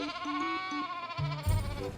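Sheep at a fair's livestock stalls bleating, several wavering calls in quick succession close by, one voice rising louder near the end.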